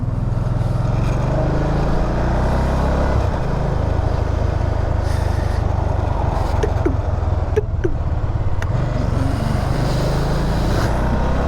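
Can-Am Spyder RT-S three-wheeled trike engine running on the road, with a few sharp throttle blips as it downshifts, heard over steady low engine and wind rumble.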